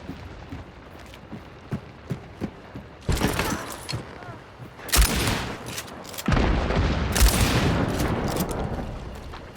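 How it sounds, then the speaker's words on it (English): Shotgun fire in the video game Hunt: Showdown: after a few soft clicks and footsteps, three loud booming blasts ring out in close succession, each with a long, noisy tail. "Just shooting at full long range with a shotgun well outside of the kill range."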